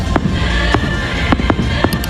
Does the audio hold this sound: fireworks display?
yes